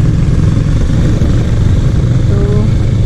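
Steady engine drone and wind roar from a Kawasaki Ninja 650 riding on a highway while a Kawasaki H2 passes alongside, loud and continuous with no distinct pass-by swell.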